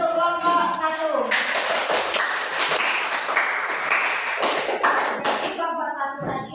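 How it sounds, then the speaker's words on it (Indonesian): A classroom group claps in a burst of applause that starts after a brief spoken line, then tapers into scattered claps and shuffling toward the end. "beri tepuk tangan untuk kelompok 1"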